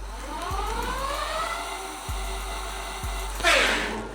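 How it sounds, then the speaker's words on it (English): A Puckipuppy Dachshund folding ebike's motor and chain run at top speed, giving a steady whirring drone with a faint rising whine, heard close up with no voices. "I'm going to place it near the motor, and we're going to let it run at its fastest mode and see how much noise it actually generates."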